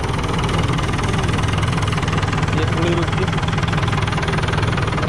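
A 1958 Fordson Power Major diesel tractor engine idles with a loud, steady low knocking chug, while someone speaks briefly over it.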